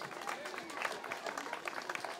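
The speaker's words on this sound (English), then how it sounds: "We can clap for them." A crowd claps at an outdoor National Night Out community gathering in Roslindale, a dense burst of applause that is loud and sustained.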